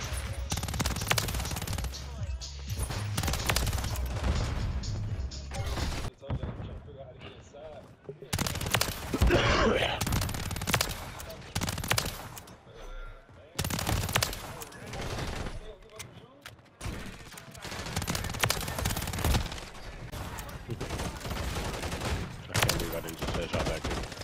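Rapid bursts of automatic gunfire from close-range hip-fire kills on the Shipment map in Call of Duty, loud and dense with short gaps, mixed with game effects and someone talking over it.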